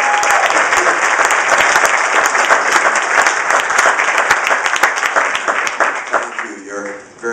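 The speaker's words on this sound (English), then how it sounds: "Generous to applaud, even though we haven't said much yet." A large audience at a campaign stump speech at a university in Manchester bursts into sustained, loud applause that fills the room, then tapers off near the end as a voice begins.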